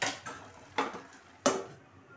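A spoon stirs and mixes chicken kheema in a cooking pan, giving three distinct metallic scrapes and clinks spaced out over a couple of seconds, close and fairly loud with no talking.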